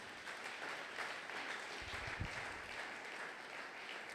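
A church congregation at a Sunday worship service applauds and cheers loudly and steadily for Jesus, a dense wash of clapping that lasts throughout with voices mixed in.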